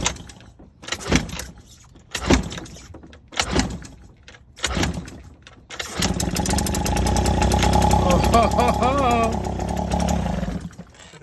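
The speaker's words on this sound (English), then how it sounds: "today we're starting the Honda Urban Express for the first time" An old Honda Urban Express scooter engine with a suspected exhaust leak cranks in several short sputtering bursts, then catches and runs steadily for about five seconds before cutting off, loud and close, with voices speaking over it.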